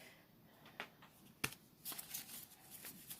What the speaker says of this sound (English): This is a big deck. It's hard for me to shuffle.